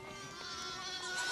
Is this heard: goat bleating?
yes